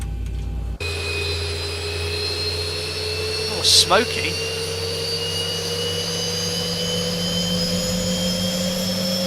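A Boeing 737 (Zibo mod) jet engine starts up in the X-Plane flight simulator, giving a steady layered whine and hum that holds throughout. A voice speaks briefly over it.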